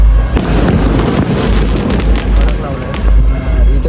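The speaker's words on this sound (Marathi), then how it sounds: "इथं तिथं फटाके फुटत आहेत" Firecrackers burst all around at New Year midnight in a dense, loud, continuous crackle of overlapping pops and bangs, some near and sharp, others farther off, with faint voices mixed in.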